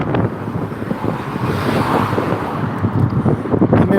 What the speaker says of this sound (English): with all the traffic going past me, I'm struggling to hear myself.